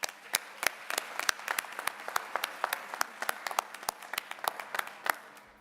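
Scattered applause from a modest audience at an MLK tribute, individual claps distinct and sharp, keeping a loose steady rhythm throughout.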